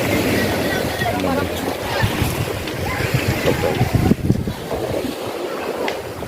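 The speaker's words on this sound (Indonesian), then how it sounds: "menggunakan alat transportasi lain, perahu motor" Motor boat crossing water near Nanga Woja, carrying villagers back across; a steady low engine rumble with wind and water wash, fairly loud and continuous, with people talking over it.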